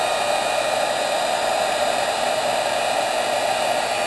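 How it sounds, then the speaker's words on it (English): A heat tool blows a constant, loud, even hiss of hot air while heat-setting clear resist paint, with no talking. "So I'm going to go ahead and heat set this."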